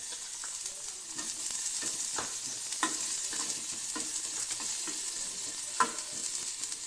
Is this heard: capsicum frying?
yes